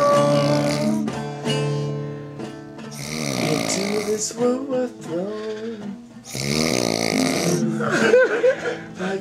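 Loud, throaty snoring sounds are mixed with a voice singing a parody of a rock song, with snorts and rasps woven between the sung lines and a voice partly imitating the snore.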